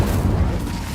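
Incendio fire spell cast in Hogwarts Legacy on Xbox, a brief dense low roaring whoosh that fills the moment, loud and close.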